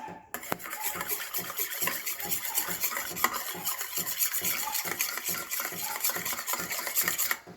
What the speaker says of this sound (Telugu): మిర్చి పౌడర్, కొద్దిగా సాల్ట్ యాడ్ చేసుకోవాలి, మిక్స్ చేసుకోవాలి